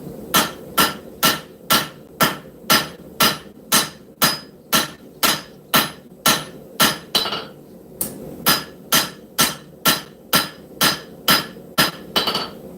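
A hammer strikes 5160 scrap steel while a knife is forged, about two dozen loud, evenly spaced ringing blows with one brief pause midway.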